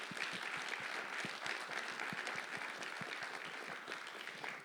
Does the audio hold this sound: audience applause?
yes